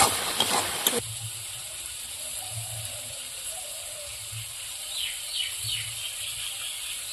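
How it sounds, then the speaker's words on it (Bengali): Ground cumin paste being stirred in a hot cooking pan for a shrimp and cabbage dish, a steady close sizzle and hiss with soft scraping movements running throughout. "জিরে বাটাটা দিয়েছি, নাড়াচাড়া দিয়ে নেবো।"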